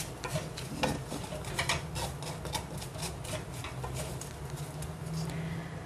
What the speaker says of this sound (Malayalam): ഉണക്കച്ചെമ്മീൻ ചേർത്തിട്ട് 1 മിനിറ്റ് ഒന്ന് നന്നായിട്ടൊന്ന് ഇളക്കി കൊടുക്കാം